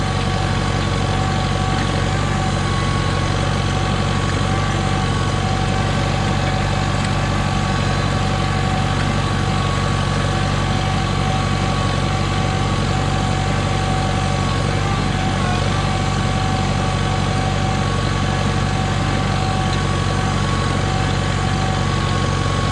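A Farmall Cub tractor engine runs loud and steady while cultivating a garden, a constant close chugging drone with no break and no voices.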